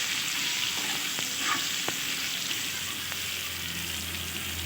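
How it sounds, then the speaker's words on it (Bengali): Chunks of elephant foot yam fry in hot oil with salt and turmeric, giving a steady, close sizzle throughout, broken by a few sharp clicks and scrapes as the pieces are stirred in the pan. "ওলকচুগুলো দিয়ে দিচ্ছি সামান্য পরিমাণ নুন আর হলুদ দিয়ে ভালোভাবে নেড়ে চেড়ে আমি ভেজে নেব।"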